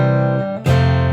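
Electric guitar chord sustained through a Nux Stageman floor unit with its cab simulation engaged, a full harmonic ring that briefly dips and then restrikes loud and close, alone with no talk.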